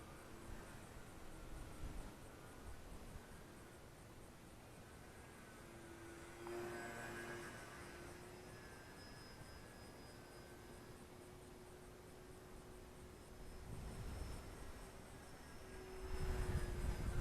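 A Fun Cub 1100mm-wingspan RC model airplane flying on a 3S 2200mAh LiPo, its electric motor a faint distant whine that rises and falls as it passes overhead, with no voices.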